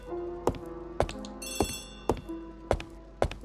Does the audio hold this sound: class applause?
no